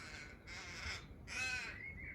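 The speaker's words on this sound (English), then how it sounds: "can you hear the crow?" A crow caws outdoors in two long, harsh calls with a short pause between them, heard clearly at moderate distance with no talking.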